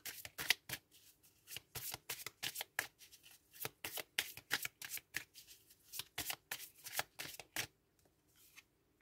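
Tarot cards riffled and shuffled by hand in quick, repeated bursts of crisp flapping, close and fairly quiet, tapering off near the end.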